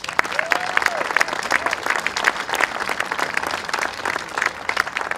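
A crowd at an outdoor inauguration of a Francophonie monument in Alfred applauds steadily, with thick, lively clapping and a few sharp individual claps standing out, while a brief voice or whistle rises over it near the start.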